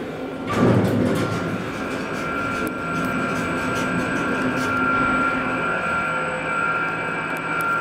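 A KONE EcoSpace machine-room-less traction elevator in a Cupertino parking garage makes an odd sound, a steady mechanical hum and rumble with a faint high whine and a brief clunk near the start, heard close from inside.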